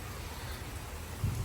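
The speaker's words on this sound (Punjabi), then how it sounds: "ਦੇਖੋ ਮੀਂਹ ਪਈ ਜਾਂਦਾ" Steady rain falling, a soft continuous hiss with no distinct drops, and a faint low rumble near the end.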